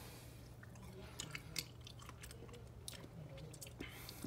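Chewing and biting on a SpongeBob SquarePants popsicle, with soft crunchy bites and wet mouth sounds scattered over a steady low hum, close to the mic and fairly quiet.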